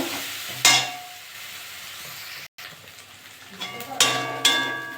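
Malabar spinach with salt is stirred and sautéed in a pan. A few sharp metallic spoon clanks and scrapes stand out over a low steady sizzle, close by and with no speech.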